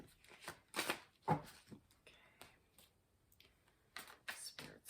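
Tarot cards are shuffled by hand at close range, making quick irregular riffling and slapping bursts with short pauses between them.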